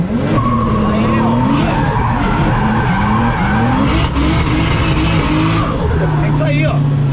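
A car with a 550-horsepower engine drifts, its tires squealing and skidding continuously over a loud, revving engine. People talk throughout.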